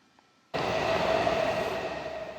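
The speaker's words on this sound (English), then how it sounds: "the lights always flashed right before the train was arriving" A Washington DC metro train arrives after near silence with a sudden loud onset, then a sustained rushing roar with a steady whine, alone and close by.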